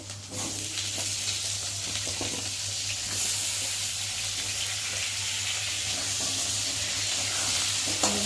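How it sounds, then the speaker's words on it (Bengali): Potatoes fry with browned onions in leftover fish oil, producing a continuous near sizzle with light scraping and stirring over a steady low hum. "এখন আলুগুলো দিয়ে ভালো করে ভেজে নেব"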